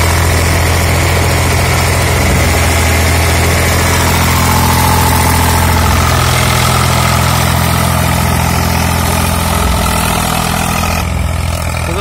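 An Eicher 485 tractor engine of about 52 HP runs unloaded at a steady idle, a loud continuous diesel rumble that holds for the full length with no voices.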